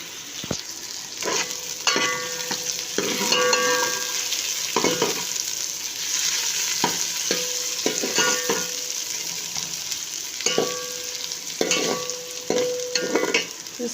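Onions for beef korma fry gently over low heat, a soft continuous sizzle broken by repeated spoon scrapes and stirring clinks in the pan, close and alone.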